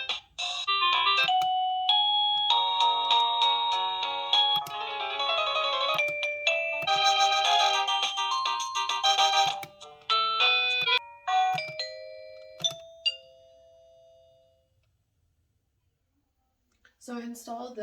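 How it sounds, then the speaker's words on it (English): A wireless door sensor alarm chime for business, store, home or office plays a string of bright melodic tones one after another, loud and close, pausing briefly before a final chime starts at the end. "hold down the volume key until you hear a chime"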